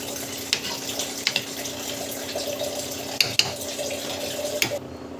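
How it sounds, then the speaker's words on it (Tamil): Water is poured into a cooking pot of carrot rava kichadi, a steady close running splash with a few sharp clinks from the pot, ending abruptly near the end. "இன்னும் கொஞ்சம் தண்ணி போட்டுக்கோங்க."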